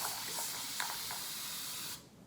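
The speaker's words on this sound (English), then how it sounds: "hands-free, and it'll keep spraying basically." A plastic dollar-store continuous-mist spray bottle sprays hair product on curls in one steady, close hiss that runs for about two seconds, then cuts off abruptly.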